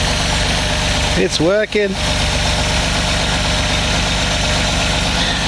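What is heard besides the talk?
Reliant Scimitar engine idling after misfire fix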